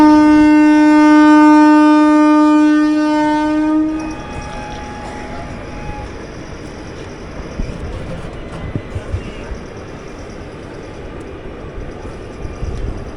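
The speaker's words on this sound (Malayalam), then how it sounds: "ഹോൺ അടിച്ചത് ഇവനാണെങ്കിലും ഓടിയത് നമ്മുടെ വണ്ടിയാണ്." A loud, sustained train horn blares for about four seconds, then gives way to the rumble and clatter of the Chennai–Palakkad Superfast moving.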